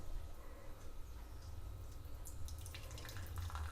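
Water trickles and pours softly into cornstarch in a kitchen, a faint, continuous running sound with a few brighter splashes toward the end, heard alone without talk.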